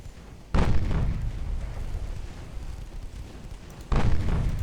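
Naval gunfire in the warship battle game Ultimate Admiral Dreadnoughts: two deep booming shell impacts, the first followed by a long rumbling tail, the second arriving a few seconds later.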